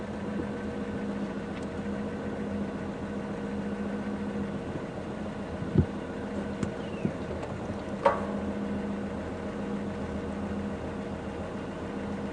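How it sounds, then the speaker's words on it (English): A safari vehicle engine idles with a low, steady rumble, with a couple of faint clicks and knocks in the background. "I'm just going to leave the vehicle running"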